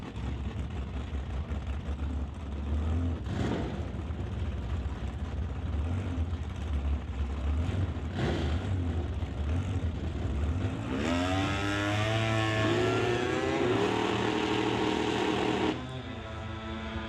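A Dakota drag racing truck's engine drones and revs continuously at a stock class drag race, rising in pitch near the end as it accelerates hard, heard from a distance amid broad roaring noise.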